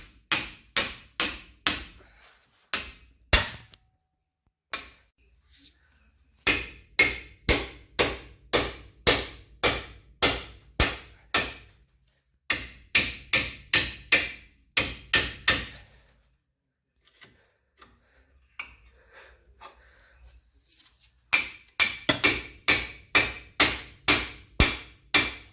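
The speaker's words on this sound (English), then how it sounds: "So get the ball joint splitter in." A ball joint splitter is hammered into a car's suspension ball joint during wishbone replacement, with long runs of loud, evenly spaced metallic blows broken by short pauses, close and with no talk.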